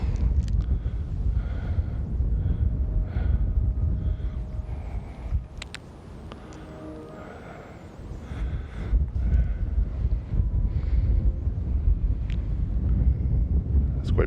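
Wind gusting across a high mountain top above Albuquerque, buffeting the microphone with a loud, rumbling roar that dips briefly midway before rising again.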